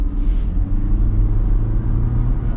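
A 2023 Ford Ranger Tremor pickup truck driving, giving a steady low engine and road rumble heard from inside the cab, with no talk.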